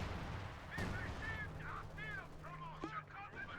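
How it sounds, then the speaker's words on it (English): An assault artillery barrage lands on infantry at a retreat point in Company of Heroes 2, with a couple of sharp explosive booms amid a busy battle din and a voice talking over it. "Assault artillery getting called right on top of all the infantry in the retreat point."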